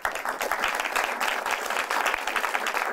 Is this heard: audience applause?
yes